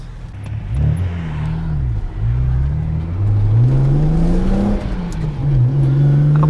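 A recently repaired BMW with a lingering vibration drives along, its engine loud and close, climbing in pitch through several gear changes with brief dips between shifts.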